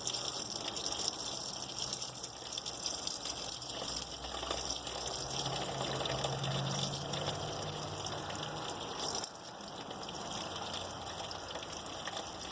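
Water gushes steadily from the drain plug opening of a 2012 Air Nautique boat hull. The flow is a continuous, even splash with no speech, and it drops slightly in level near the end.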